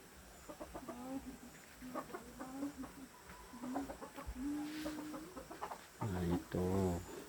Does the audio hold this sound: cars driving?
no